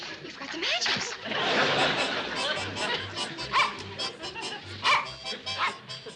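A dog barks and yips repeatedly in a busy scene, several short barks rising over overlapping talk and background commotion at moderate distance.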